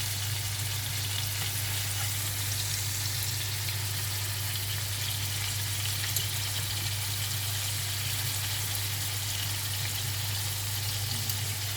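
Meatballs fry in a pan with a steady, unbroken sizzle that stays even and fairly close throughout, with no clear flipping sounds and no talking.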